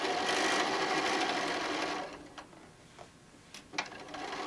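A sewing machine stitches across a fabric wine bottle bag in a steady close whir for about two seconds, then stops, followed by a few small clicks and handling noises.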